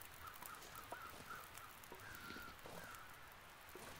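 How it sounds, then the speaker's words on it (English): Crows cawing in the survival video game The Long Dark, a series of faint, repeated caws spaced across a steady windy ambient bed, with no talk. "a murder of crows circling up ahead might suggest an animal carcass or even a human corpse"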